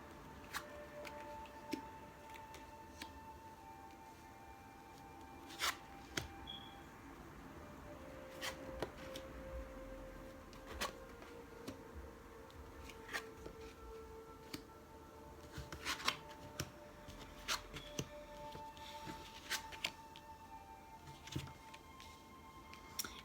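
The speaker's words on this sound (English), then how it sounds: "let me go ahead and flip the cards. I'm going to do so quietly" Tarot cards are flipped and laid down quietly, giving soft, sparse ticks and slaps scattered over about twenty seconds. They are close but faint against a low background, with no talking.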